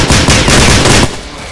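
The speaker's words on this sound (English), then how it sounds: "I'm not going full auto on this thing. Just burst firing." Automatic rifle fire in the video game STALKER: Clear Sky, a loud close burst of several rapid shots in quick succession, ending abruptly and leaving a short decaying tail.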